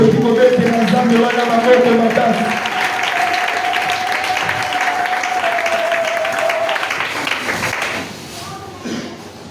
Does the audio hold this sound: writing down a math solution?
no